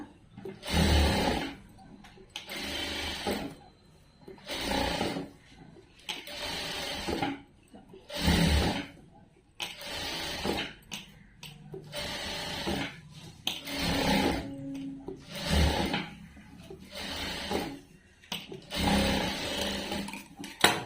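A sewing machine stitching a dress runs in repeated bursts of a few seconds each, separated by short pauses, fairly close and steady with no talk over it.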